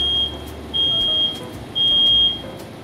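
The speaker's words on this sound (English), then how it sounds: "Smoke sets off the 10-year sealed battery smoke alarm 19 seconds after the fire is started." A 10-year sealed-battery smoke alarm triggered by smoke from a burning Christmas tree sounds a steady high-pitched tone in repeating pulses, with a low rumble of fire and room noise underneath.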